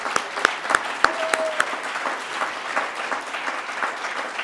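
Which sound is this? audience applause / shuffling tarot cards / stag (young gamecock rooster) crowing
audience applause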